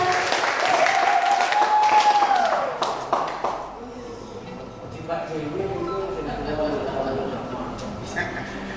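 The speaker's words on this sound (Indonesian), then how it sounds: "Kita beri tepuk tangan untuk Pak Fajar, teman-teman." Applause from the audience at a public-space photography seminar in Yogyakarta, fairly loud crowd clapping for about three seconds with a tone sounding over it, then fading into scattered taps, thuds and murmuring.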